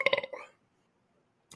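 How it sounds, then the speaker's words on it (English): A short, rough belch rumbles close to the microphone, followed by silence and then the brief start of a voice. "I bet our listeners love when we belch into the microphone."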